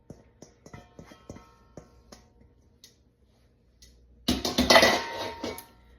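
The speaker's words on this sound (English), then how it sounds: "I'm gonna go ahead and just pour it into our 9x13 baking tray that we have greased" A run of small ticking clinks of utensils precedes a loud, wet, sloppy pour of peach bread pudding into a greased 9x13 baking tray, which tapers off after a second or two.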